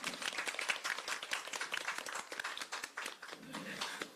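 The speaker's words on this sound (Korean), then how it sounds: "큰 박수로 환영 부탁드리겠습니다." Audience applause at a Korean political party's on-site meeting on support housing for young people leaving care, greeting attendees as they are introduced; dense, steady clapping for about four seconds, fairly faint, with a voice speaking over it near the end.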